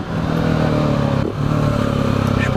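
Motorcycle engine revving hard during a wheelie on a Marseille street, a loud sustained roar that dips briefly halfway through and then climbs again, close by, with no talking.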